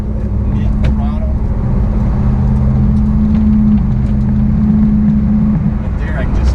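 Car with an LT1 engine driving at mid-throttle, a steady loud droning engine note held throughout, heard from inside the car with faint background noise.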